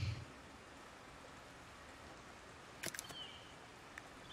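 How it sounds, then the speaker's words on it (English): Steady rain in the medieval city-builder game Foundation makes a soft, continuous hiss, fairly quiet, with a couple of brief game sound effects cutting through near the end. "It is raining as well."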